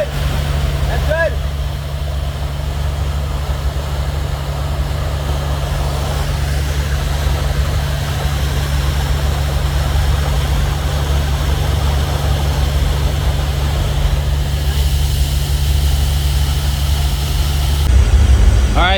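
An industrial vacuum machine sucking up carbon media from a vessel, a loud, continuous roaring drone with a steady low hum, unbroken for the whole stretch.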